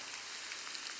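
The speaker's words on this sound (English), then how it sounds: "It's raining now." Steady rain falls on a hike along the Freycinet Peninsula Circuit in Tasmania, a soft continuous hiss of drops pattering nearby with no voices.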